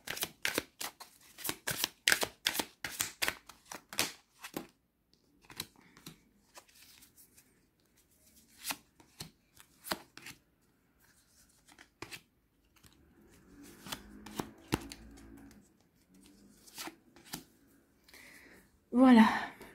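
Lenormand oracle cards are shuffled by hand in a quick burst of crisp riffling slaps, then sparser card flicks and handling sounds follow with a faint voice near the end.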